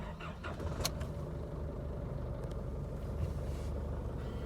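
A 2017 Isuzu D-Max with about 42,000 km is started with the key, giving a brief crank and catch and then a steady, fairly quiet idle rumble inside the cab.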